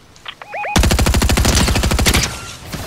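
A rapid, loud burst of automatic gunfire in Fortnite rattles off about two dozen evenly spaced shots in under two seconds, close and dominant, after a few faint electronic chirps.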